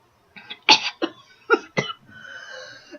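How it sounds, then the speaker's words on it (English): Someone coughs several times in quick, dry bursts close to the microphone, then clears the throat with a short rasp. "Sorry, I've been having a cough"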